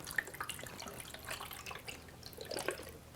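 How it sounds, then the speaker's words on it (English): Fresh water poured into the top reservoir of a Keurig Mini Plus B31 single-cup coffee brewer, a faint close splashing trickle with a few small drips and bumps. "So I just pour in water in the top here."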